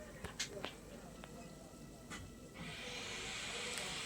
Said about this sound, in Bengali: চলো মাছগুলো সুন্দর লাল লাল করে ভেজে নিই